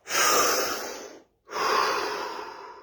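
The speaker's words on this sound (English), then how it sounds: "Another deep breath." A single deep breath during guided relaxation, a strong, near inhale lasting about a second, a brief silence, then an equally full airy exhale, with no voice over it.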